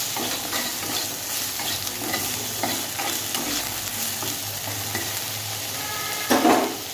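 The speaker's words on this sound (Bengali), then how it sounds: "আগে বেগুনটা ভেজে তুলে রাখবো, নুন হলুদ দিয়ে ভেজে তুলে রাখবো" Eggplant pieces sizzling in a pan with salt and turmeric, a steady close frying hiss broken by scraping stirs and a louder sputter near the end.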